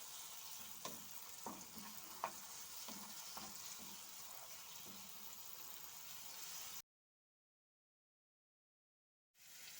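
Vegetable stew with added paste simmering in a pan, a steady soft sizzle with occasional light scraping stirs, close and quiet, cutting out to silence partway before resuming.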